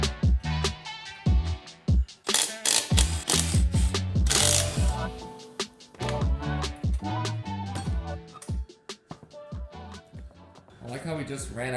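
Ratcheting wrench clicks and metallic clanks from bolts being removed on the front differential of a custom chain-steered 300HP mini Jeep, in bursts of rapid pawl ticking mixed with talk and clatter.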